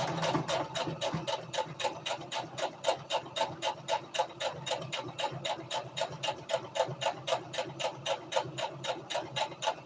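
A sewing machine back stitches while sewing a twist turban hat, its needle thumping in a fast, even, continuous rhythm from close by.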